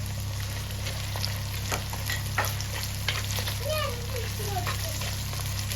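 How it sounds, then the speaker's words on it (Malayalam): Green chilies frying and being stirred in hot oil with garlic and ginger while making a date and lemon pickle, a steady close sizzle with scraping stirs over a low hum, and faint voices in the background. "ഇതിലേക്ക് പച്ചമുളക് ഇട്ട് കൊടുക്കുക കേട്ടോ."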